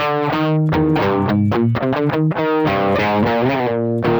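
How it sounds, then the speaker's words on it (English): Heavily distorted electric guitar playing a quick riff of chords and single notes, loud and saturated with thick amp gain, no voices. "we're going to start out by building kind of an amplifier type sound, a gain sound"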